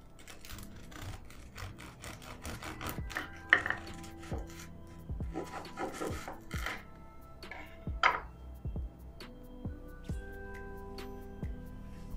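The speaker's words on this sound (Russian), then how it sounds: "Давайте разрежем одну." A knife cuts through a crispy baked khamir khasip pastry, producing a quiet, close series of sharp crunches and cracks in uneven bursts, with occasional knocks against a board or plate.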